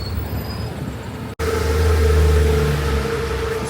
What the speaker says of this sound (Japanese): ちょうど71番のバス来ました